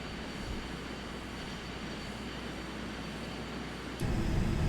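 An F-100 jet aircraft taxiing slowly down a runway, a steady far-off engine roar with a constant low rumble that grows slightly louder and rougher near the end.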